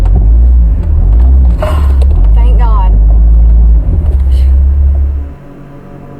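A car engine runs with a steady, heavy low rumble while people talk tensely nearby, then the rumble drops away abruptly near the end.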